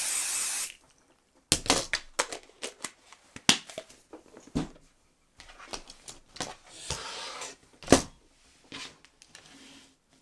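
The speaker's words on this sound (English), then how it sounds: "take your adhesive spray and spray it on the stabilizer that you hooped." Short hissing bursts of an adhesive spray can, several quick spurts and longer sprays separated by pauses, close up and alone, spraying onto hooped embroidery stabilizer.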